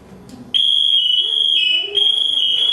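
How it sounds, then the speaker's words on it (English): A firefighter's motion alarm gives a loud, piercing high-pitched tone that starts abruptly and sounds continuously, briefly wavering midway, over faint background voices. "If I was down for a longer time, what it would do is actually beep really loud."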